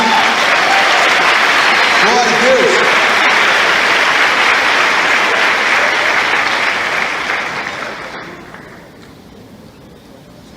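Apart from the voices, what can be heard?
audience applause in church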